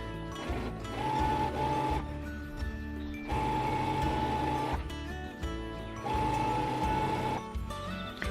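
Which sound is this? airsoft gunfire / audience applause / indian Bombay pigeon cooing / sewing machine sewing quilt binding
sewing machine sewing quilt binding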